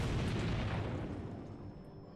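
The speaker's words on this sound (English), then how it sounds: "There was an explosion in the square in front of the City Hall." A bomb explodes in the city square in front of City Hall in the game The Life and Suffering of Sir Brante; a loud, rumbling roar fades gradually over two seconds.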